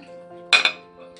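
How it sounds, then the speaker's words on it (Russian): A metal lid set down on a pan of meat headed into a 200-degree oven, one sharp bright clank with a quick second rattle, then a faint ringing tail and a small clink, close in a quiet kitchen. "Я закрою еще крышкой пока."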